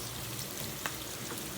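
Onions frying in oil over low heat give off a steady, soft, hissing sizzle with a few faint pops, continuous and quiet with no voices.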